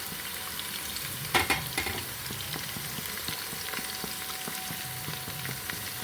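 Onions fry and get stirred in a pan for an Andhra-style mutton biryani: a steady crackling sizzle with quick spatula scrapes and taps, close and fairly loud, with no voices.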